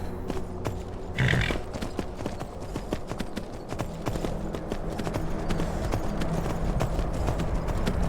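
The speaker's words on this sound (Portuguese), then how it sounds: "o cavalo anda." Steady clip-clop of horse hooves walking at an even pace in the video game Skyrim, with a brief whinny early on over a busy ambient background.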